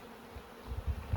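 Honeybees buzz in an open beehive during an inspection, a low, soft hum that swells and wavers over a brief moment with no talking.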